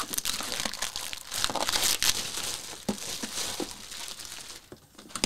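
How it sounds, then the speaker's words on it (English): Plastic wrapping is crinkled and torn off a 3Dio Freespace XLR binaural microphone, a close, continuous crackling and rustling with a few sharper tearing bursts, no talking. "Remove a little bit of plastic."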